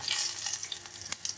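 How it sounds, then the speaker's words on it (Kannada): Garlic sizzles in hot oil in a pan as a tempering for a black-eyed pea huli curry, a steady close crackle with a few stirring clicks. "ಸೊ ಇದು ಒಗ್ಗರಣೆ ಬೇಯ್ತಾ ಇದೆ"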